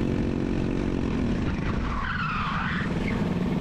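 Racing kart tyres skidding under heavy braking, a loud continuous scrubbing squeal layered over the roar of the kart's engine, close up and sustained throughout with no talking.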